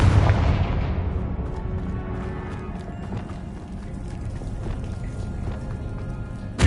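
A Confringo blasting spell explosion in Hogwarts Legacy: a loud booming burst at the start that decays into a rumbling, crackling tail with scattered debris-like clatter.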